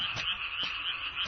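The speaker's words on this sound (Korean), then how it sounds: "연못에서 우는 개구리 소리 때문에 잠을 못 자겠는데" Frogs croak in a pond, a dense chorus of loud, continuous shrill trilling with a few deeper croaks breaking through at intervals.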